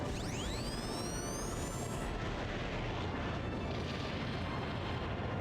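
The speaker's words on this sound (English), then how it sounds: "here comes the Hydra Cannon" A Hydra Cannon attack in the video game Skies of Arcadia Legends is a dense, roaring blast with a sweeping high whine at the start, then a continuous loud rumbling barrage that stays heavy throughout.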